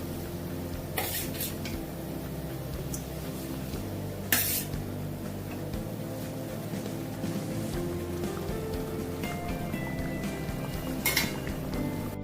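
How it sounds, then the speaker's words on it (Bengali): Fried pabda fish go into a simmering mustard-poppy seed curry, with occasional sharp clinks of a metal utensil against the pan over a low, steady bubbling background. "ভাজা পাবদা মাছগুলো আমি দিয়ে দিচ্ছি।"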